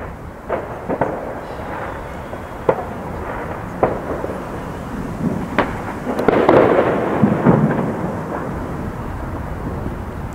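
New Year's Eve fireworks explode over Berlin-Marzahn, with a continuous rumble of distant bangs and sharp reports, building into a denser crackling barrage partway through.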